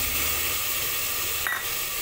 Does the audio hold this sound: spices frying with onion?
yes